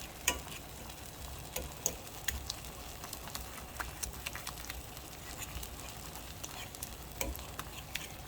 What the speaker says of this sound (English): I put the heat way up so that it starts to fry itself